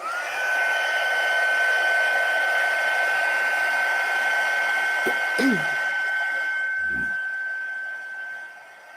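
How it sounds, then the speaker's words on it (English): A heat gun melts embossing powder on a handmade card, a steady close whirring blow with a whining tone. A few brief taps occur midway, and the sound fades slightly near the end. "I find that the foil kind of deflects the heat gun, and it helps this helps the powder melt a little bit faster"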